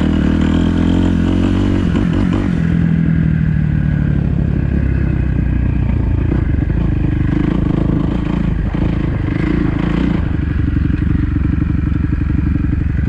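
A dirt bike that sat unused for ten years revs loudly while being ridden, its engine buzzing and rising and falling in pitch close up with rattling clatter throughout.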